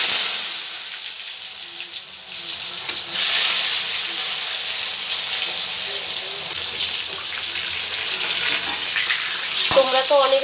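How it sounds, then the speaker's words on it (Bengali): Pieces of pointed gourd fry in hot white oil with a steady, bright sizzle that carries through, joined near the end by a short clatter of a utensil. "তেলের মধ্যে এবার আমি পটলগুলো সব দিয়ে ভেজে নেব"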